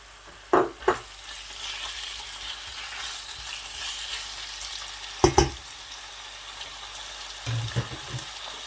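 Meat for chicken masala boti frying in a hot pan, a steady broadband sizzle with a few sharp clatters of stirring, no talk.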